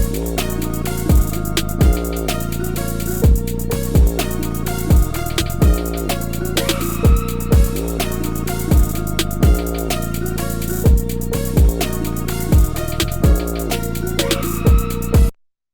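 Trap beat hook built from chopped samples on an MPC One, layered with a scream sample in the background and a tube synth sound, playing loud and continuous with steady punchy drum hits throughout, no talking.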